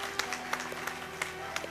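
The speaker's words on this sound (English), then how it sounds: "Please give him a round of applause." An audience at an expert panel event on global conflict claps in sparse, scattered bursts, quiet and thin rather than a full ovation.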